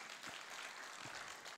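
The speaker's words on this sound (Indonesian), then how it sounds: "satu tepukan kepada orang yang angkat tangan ya" An audience at a Malay-language Atomy company introduction applauds, a soft, fairly distant patter of many hands clapping that continues steadily before cutting off.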